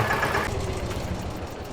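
Small tractor engine in the video game Farming Simulator 22, idling with a steady low mechanical rumble and a brief higher tone near the start, heard alone at moderate level.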